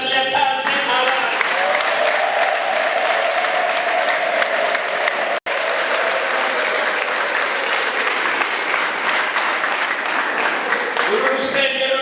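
Sustained applause from a church congregation at a morning service, a dense wash of clapping that fills the space throughout, with a brief dropout midway and a faint sustained tone or voice running beneath.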